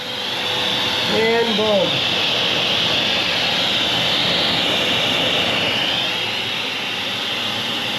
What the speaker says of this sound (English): Got the shop vac running in the background.